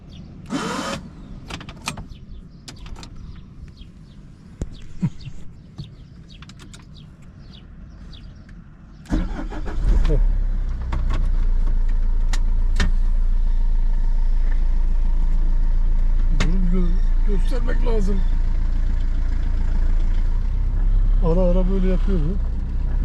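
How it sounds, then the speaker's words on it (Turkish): A vehicle engine at a caravan park in Gazipaşa, Antalya, with a starter that sometimes fails to engage, cranks briefly midway and then settles into a steady, loud, low idle rumble, with voices talking over parts of it. "Ara sıra marş basmıyor."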